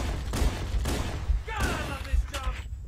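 Gunfire in the Halo CE game, a run of loud, close, punchy shots in quick irregular bursts with game sound effects, and a voice talking faintly beneath.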